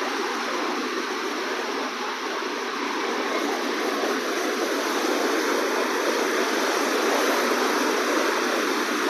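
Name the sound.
waves of a rough sea at Bandra Bandstand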